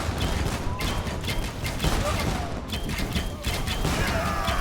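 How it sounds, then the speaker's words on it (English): Organ guns blaze in a video game battle, a dense, continuous roll of overlapping gunfire with bursts and crackling impacts sustained loudly throughout, a heavy barrage of massed volley fire. "Here the organ guns come in for the grand finale."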